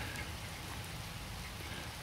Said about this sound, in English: it's raining pretty good here now